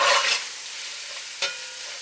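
Ground meat fries in a pan while a spoon stirs and scrapes through it, a loud bright sizzle with a stirring burst at the start and another brief scrape near the end, no voices.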